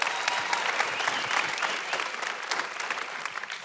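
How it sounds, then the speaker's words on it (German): A church or stage audience claps for a speaker being welcomed, steady dense applause close by, lasting throughout without letting up. "Lass uns einen Applaus geben unserem Jan Rouge."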